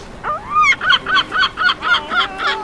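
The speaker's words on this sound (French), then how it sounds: "c'est pas une mouette ça, c'est un goéland" A large gull gives a loud, close series of about eight rhythmic, nasal, laughing calls, each a short rising-falling yelp, heard alone with no other sounds.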